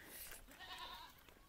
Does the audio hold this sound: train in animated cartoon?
no